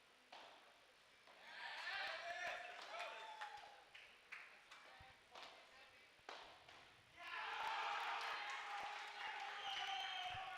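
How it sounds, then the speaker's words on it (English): A crowd at a padel semi-final at the Paddle House at CRNFC cheers in two swelling bursts, with ball thuds in between, under a commentator talking. "You can hear the buzz of the crowd here at the Paddle House at CRNFC as the team owners, filled with energy, cheering their teams on"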